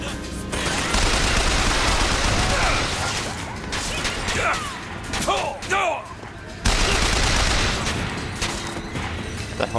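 Dense gunfire from the video game Bioshock Infinite, loud rapid bursts and single shots with mechanical clatter and booms, nearly continuous across the whole stretch.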